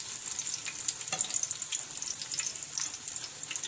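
Mughlai paratha frying in shallow oil over a low gas flame, giving a steady, soft sizzle with faint crackles and occasional stirring clinks, close and unbroken by speech.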